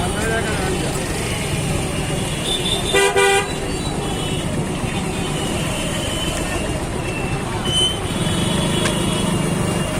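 Dense street traffic jam in Barishal, heard from a motorcycle: steady engine rumble of cars, trucks and buses, with a short car horn toot and another brief honk later, voices faintly mixed in.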